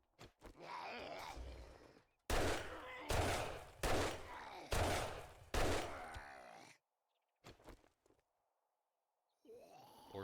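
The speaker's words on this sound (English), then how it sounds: "Four shots to the head." Gunfire from the video game 7 Days to Die comes as about five loud, closely spaced blasts, followed by quieter scattered sounds and gaps of silence.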